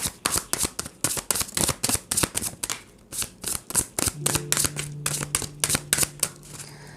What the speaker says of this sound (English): We'll do the shuffling again.